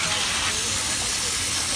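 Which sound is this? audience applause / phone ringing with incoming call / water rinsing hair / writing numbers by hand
water rinsing hair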